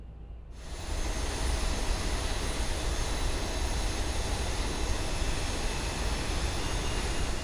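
A Boeing 737-900 jet engine runs in X-Plane 11, a steady loud roar with a low rumble that kicks in abruptly after a brief quieter moment and holds constant.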